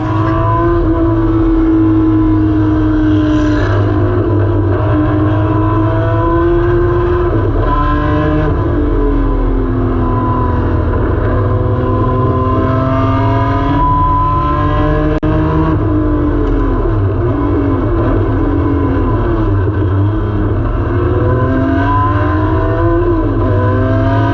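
A Porsche race car accelerates hard on track, its engine roaring close and loud with rising and falling revs through gear changes, sustained throughout.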